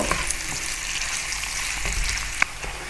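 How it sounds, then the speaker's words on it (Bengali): Thinly sliced onions fry in hot oil with a close, loud, continuous sizzle, with a few light clicks of a utensil against the pan and one sharper tap near the end. "এখন এই তেলের মধ্যে আমি পেঁয়াজটাকে সোনালি করে ভেজে নিব"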